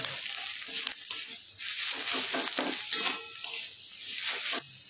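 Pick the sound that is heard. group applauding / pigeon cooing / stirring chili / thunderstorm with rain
stirring chili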